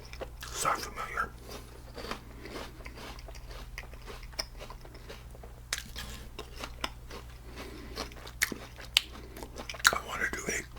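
Crunchy apple chewed close up in scattered, irregular crisp bursts, with a few sharper crunches toward the end and faint whispering underneath.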